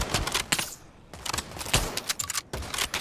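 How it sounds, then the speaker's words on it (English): A gun is reloaded in a virtual reality war game used for close-quarters training, producing a quick cluster of sharp, close mechanical clicks and clacks over about three seconds. "Definitely reloading."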